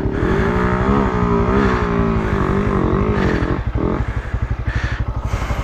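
A motorcycle engine labouring through heavy sand near a river, loud and close, with a steady droning rumble that lifts in pitch and then breaks into choppy, pulsing revs near the end.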